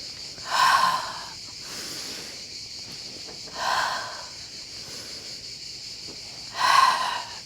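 Controlled breathing during a Pilates exercise: three audible, airy breaths, each rising and fading over about a second, spaced evenly a few seconds apart, close and without speech.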